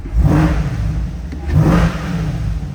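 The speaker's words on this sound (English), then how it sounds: "let's give it a couple revs for you guys" A 6.2-litre V8 engine in a 2022 Chevrolet Corvette C8 2LT coupe revs hard twice, each surge rising and falling in a deep, loud roar, close by.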